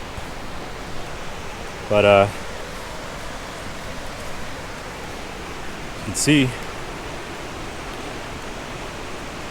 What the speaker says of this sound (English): It looks like they have the water flowing through the dam here.